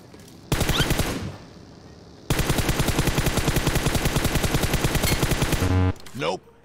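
Rapid automatic gunfire rattles in a shooting video game, in a short burst followed by a long sustained volley, loud and close.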